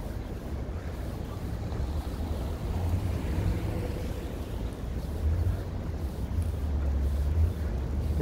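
Strong, steady wind from a pre-dawn snowstorm roars continuously while someone walks outdoors along East Pearson Street in Streeterville, Chicago, with gusts swelling and rumbling low into the microphone.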